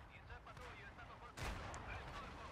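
Tank cannon fire in World of Tanks, the Progetto M35 mod. 46 in battle, with one heavy booming shot midway and fainter distant blasts before it, over a low engine rumble.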